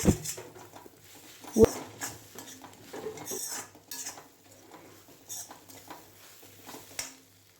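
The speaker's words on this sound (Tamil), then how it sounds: "பிச்சு போட்டிருக்க பரோட்டா முட்டையோட நல்லா ஒன்று சேர மிக்ஸ் பண்ணிக்கோங்க" Torn parotta being mixed with egg in a pan for egg kothu parotta, with quiet intermittent metal scrapes and clinks of a utensil against the pan and a dog whimpering faintly in the background.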